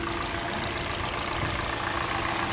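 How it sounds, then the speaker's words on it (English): A Hyundai Elantra engine idles steadily after starting, following an ECU water-damage repair; a continuous mid-pitched hum holds at an even level throughout with no talk. "So now the car has started."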